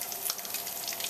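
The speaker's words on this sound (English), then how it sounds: "I'm going to use a tiny ladle to get a little bit of the fat off of the bacon" Bacon fat is ladled off in a pan, a steady watery sizzle and hiss under a light, continuous crackle, close and fairly quiet.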